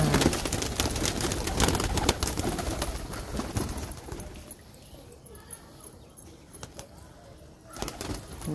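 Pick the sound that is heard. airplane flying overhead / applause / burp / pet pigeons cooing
pet pigeons cooing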